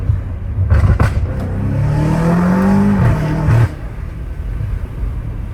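A 617 hp BMW M5 Competition revs up, its engine note rising and holding for a few seconds before cutting off with sharp exhaust pops, loud and close over cabin rumble.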